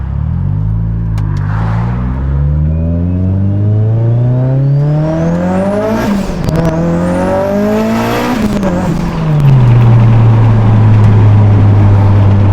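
A tuned Mitsubishi Evo 8 engine revs up loudly and close, rising through several long climbs before dropping back to a steady, higher idle drone.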